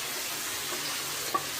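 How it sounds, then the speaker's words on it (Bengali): Tomatoes fry in a pan for a teasel gourd curry, giving a faint, steady sizzle with a single soft utensil tap near the end; no talking. "এটার মধ্যে কয়েকটা টমেটো ছেড়ে দিচ্ছি।"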